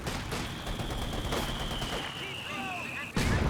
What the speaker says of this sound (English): Ooh, big hit from the mortar.